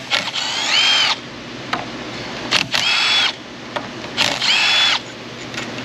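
A power tool removes transmission bolts from a 2016 Chevy Tahoe 5.3 with a 6L80 transmission: three loud whirring bursts close by, each about half a second to a second long, separated by short pauses.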